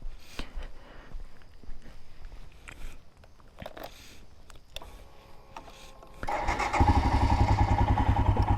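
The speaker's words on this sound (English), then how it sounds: "So let's start up the bike, let's get on, and let's go for a quick little ride" A 2021 Royal Enfield Himalayan BS4 motorcycle is started: some shuffling and clicks, then the single-cylinder engine catches and settles into a steady, close, moderately loud idle that runs to the end.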